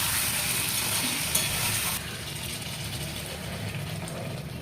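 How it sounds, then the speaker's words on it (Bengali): Chicken curry sizzles and fries loudly in a pan, then the hiss drops abruptly as water is poured in, leaving a softer, steady bubbling sizzle. "আমি এখন একটু জল দিয়ে দেবো এর মধ্যে।"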